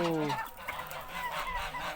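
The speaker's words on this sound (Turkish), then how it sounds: "Tavuklar fareyi yakalamışlar, öldürmüşler. Yiyorlar şimdi de." Chickens attack and peck at a mouse they have caught and killed, with a short honking fowl call at the start followed by scuffling and clucking close by.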